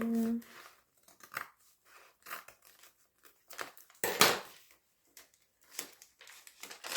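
Scissors snip paper in a glue book junk journal, giving sparse short crisp cuts and crinkles at close range with quiet gaps between, and a voice briefly speaks at the start.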